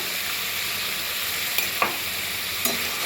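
Chhana potol masala sizzles steadily in a pan after chilli powder and salt go in, with a few soft utensil taps and scrapes as it is sautéed, close and even.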